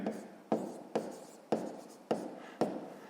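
Handwriting on paper during a sixth-grade maths exercise: six sharp pen or chalk strokes land at roughly half-second intervals, each starting with a crisp scratch and trailing into a fading rub, close and fairly quiet, with no voices.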